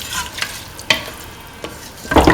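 A tomato and coconut rice mixture is stirred in a pan, giving a wet, sizzling scrape with a few sharp clinks of the spoon and a louder burst of stirring at the end.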